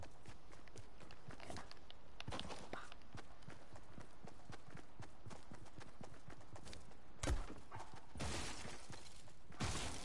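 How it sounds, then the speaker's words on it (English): Rapid footsteps patter in a video game, a dense run of sharp, close steps with a few louder thumps and impacts breaking through the steady rhythm. "I just heard footsteps."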